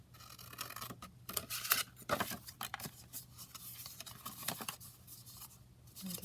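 Scissors snip through paper while policy envelopes are being made, a run of close, crisp cuts and rustles with a faint steady hum behind them.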